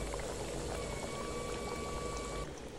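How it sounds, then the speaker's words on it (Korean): Breaded tonkatsu pork cutlet frying in hot oil, a steady dense sizzle and bubbling crackle that stays even and close throughout, easing slightly at the end. "만든 돈가스를 이제 튀겨 볼 건데요."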